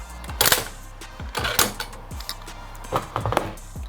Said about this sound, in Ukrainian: Потім затворну раму подаємо назад в задню точку і дістаємо вверх.